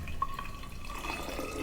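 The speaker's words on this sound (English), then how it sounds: "We'll strain this into this jug, and then we have our decoction" Herbal gentian decoction strained into a jug, heard as a soft, steady trickle and drip of liquid, quiet and continuous with no talk.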